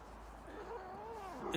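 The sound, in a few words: cat coming up to visit, meowing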